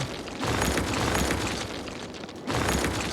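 Buildings being demolished in the city-building game Cities Skylines, heard as a dense, roaring rumble of collapse that swells twice in loud sustained bursts with a short dip between, no voices present.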